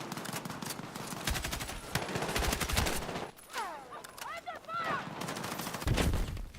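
Gunfire rattles through a match on the Eastwood map of the Battlefield 6 video game: dense, loud, close bursts of automatic fire and single shots that keep going almost without pause.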